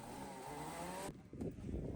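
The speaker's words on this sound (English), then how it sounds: "we need to heat up the engine before an entire day of training" A go-kart engine idles and runs steadily to warm up before a day of training at a karting track, its buzzing drone cutting off abruptly partway through and leaving rougher, lower engine rumble and noise.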